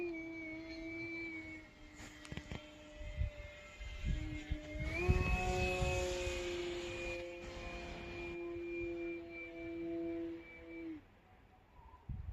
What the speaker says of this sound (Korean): 비행기가 왜 이리 빠르노?